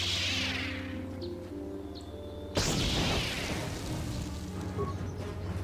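A frag grenade in the Star Wars game KOTOR on Xbox One goes off with a single loud boom midway, following a low humming stretch with a rising whoosh, then a rumbling tail.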